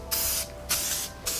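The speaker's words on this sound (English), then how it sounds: "spray my pan with this MR150, which is a release agent" MR150 release agent is sprayed from an aerosol can onto a baking pan in three short hissing bursts, each about half a second long and close to the mic, with brief pauses between them.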